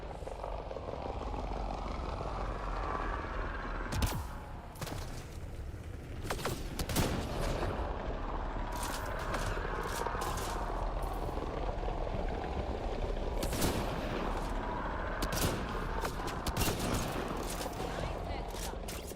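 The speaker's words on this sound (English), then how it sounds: "Hostile shuttle incoming." An engine drone of a hostile shuttle approaching in Mass Effect: Andromeda, with scattered sharp gunshots and bursts of fire over it; a voice talks at times.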